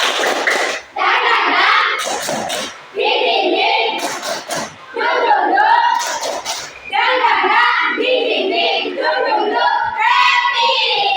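Children clap in rhythmic bursts during a clapping game, chanting along loudly in unison between sharp hand claps, with a teacher's voice leading.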